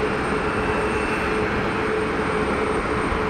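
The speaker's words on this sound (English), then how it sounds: "Let's see if we get any reverser action. Love a clamshell reverser." Airliner roll-out at Geneva with a clamshell thrust reverser: a steady, loud broadband engine roar holding evenly throughout with no distinct surge, no voices.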